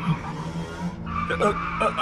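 A car skids and swerves on the road after its rear tire bursts, a rough, sustained tire-and-engine roar that surges and wavers over about two seconds, close and fairly loud, with a voice briefly mixed in.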